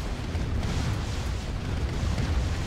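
Explosions and cannon fire from the C&C Red Alert video game during an esports match, a dense, continuous rumble of overlapping booms and bursts with no clear gaps, loud throughout.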